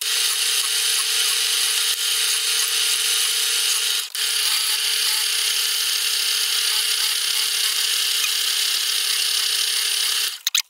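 A steady, loud mechanical whir of a drill press opening holes to 6.5 millimeters runs nearly unbroken, with a steady tone and a brief dip partway through before stopping abruptly.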